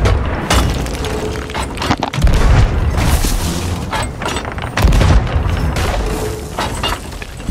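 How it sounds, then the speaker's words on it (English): Cannon shots fired from a ship in the pirate game Sea of Thieves, several loud booming blasts with crashing impacts spaced a couple of seconds apart, close and dominant. "Because Bruce is shooting all of them"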